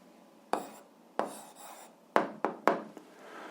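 A pen writes out an algebra answer by hand on paper: several short, close scratchy strokes with sharp starts, some quick and clustered, with no voice over them.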